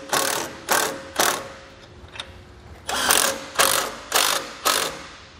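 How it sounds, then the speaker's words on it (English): A wrench ratchets on the bolts of a Fulton XLT bolt-thru swivel trailer jack, giving close, loud bursts of rapid clicking in a steady back-and-forth rhythm, about eight strokes with a short pause midway and no talking. "I'm just going to come back with our impact and our wrench and getting it tightened down."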